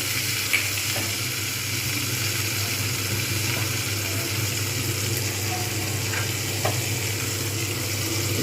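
Ginger paste with chili powder, turmeric and roasted coriander-cumin powder frying in a pan with a splash of water, making a steady close sizzle with occasional faint stirring scrapes and no talking.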